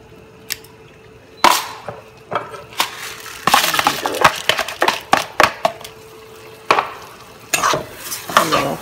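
Two cups of rice go into a hot pot with onion and consommé and are stirred, giving irregular scraping strokes and crunchy shuffles over a steady frying sizzle, close and fairly loud, with no talking.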